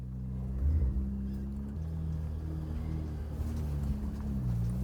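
A 4x4 grinds uphill over a rock ledge on the Tower Arch trail in Arches National Park, Moab, its engine a steady low rumble that rises and falls with the climb, with no talk.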